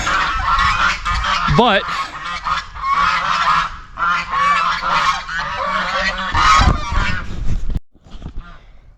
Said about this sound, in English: The geese are being loud.